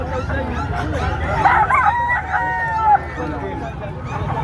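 Chickens and roosters at a busy pet market crow out loudly over a constant murmur of crowd noise, with a clear crow arching up in the middle.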